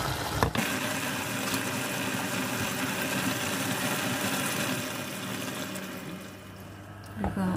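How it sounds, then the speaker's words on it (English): Water pours into a cooking pot of macaroni soup with carrots, a steady, fairly quiet rushing splash that runs for several seconds over a faint background hum before tapering off. "Now we can add the water now."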